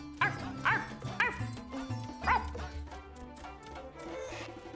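A dog barks in Final Fantasy XIV, several short yips and woofs in an uneven rhythm set against steady game music, fairly close and moderately loud.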